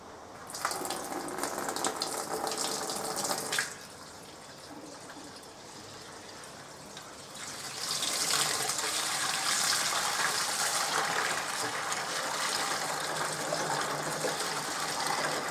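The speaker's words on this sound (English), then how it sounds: "we're going into the fermenter now" Home-brewed beer wort pours steadily into a fermenter, a continuous gushing stream that rushes louder and brighter in the second half, with no voices.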